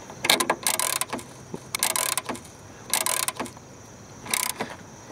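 A Go2 socket ratchets while turning a bolt, giving four bursts of rapid close-up clicking separated by short pauses, crisp and mechanical with no voices.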